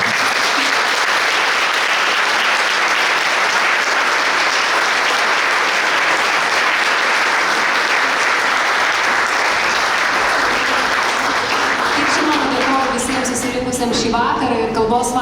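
An indoor audience at a language evening applauds award laureates with sustained, dense, loud clapping, which thins toward the end as a voice starts to come through.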